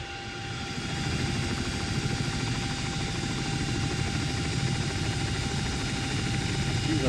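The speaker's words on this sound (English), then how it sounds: "She's a big, heavy helicopter" A CH-47D Chinook heavy helicopter starts its engines in the X-Plane 11 flight simulator: a turbine whine and broadband roar build up in the first second, then hold steady and loud with tonal hum, while a voice speaks over it.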